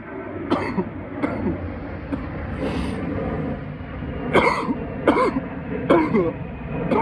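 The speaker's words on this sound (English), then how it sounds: "That's called a cannabis cough." A person with a cannabis cough coughs repeatedly in harsh, uneven bursts with throat clearing between them, close by and loud, over a low background rumble.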